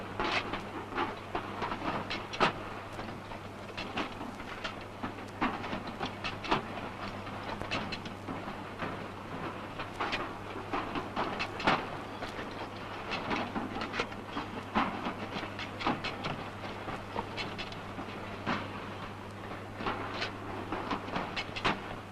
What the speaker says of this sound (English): Here, the rolling machine, the end seams are tightened.